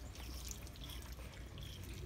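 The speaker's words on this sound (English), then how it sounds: "But when you press the water like this" Water trickles and sprays steadily from a pressed drinking nipple in a piglet pen, a continuous low wash of flowing liquid that stays fairly faint throughout.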